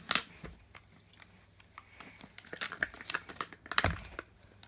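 Zipper on a toy package being undone, heard as a string of close, quick rasping and crinkling bursts with rustling of packaging, growing busier toward the end.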